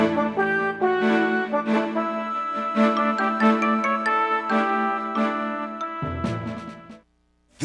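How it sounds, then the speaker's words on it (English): Ice rattles and clinks in a large McDonald's Coke cup, a steady bright tinkling close up that ends in a brief pause and a final rustle, with no voices. "This is the sound of a large Coke at McDonald's."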